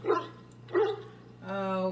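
War dogs in the Dragon Age Origins video game give two short barks close by, followed by a sustained whining or howling tone, with a voice speaking in the background.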